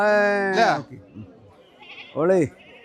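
A goat bleats loudly twice nearby, two wavering cries separated by a short pause with quiet background sounds.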